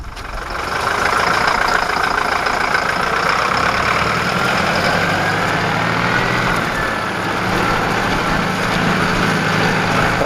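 A Valtra A104 tractor engine rumbles steadily and loud, revving up as it pulls away and keeps driving, with no talk over it.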